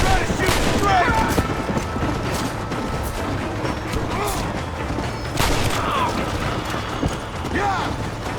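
Gunfire in the Red Dead Redemption video game: busy, dense burst of shots and clatter running continuously at close range, with horse hooves and shouting voices mixed through the scene.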